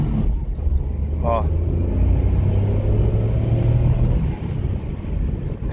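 A Renault Kwid drives along in second gear with a low, steady engine rumble heard from inside the cabin, its drone rising slightly as it pulls, under constant road and wind noise.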